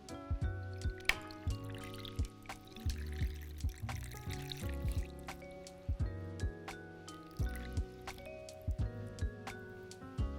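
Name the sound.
cocktail strained pour into glass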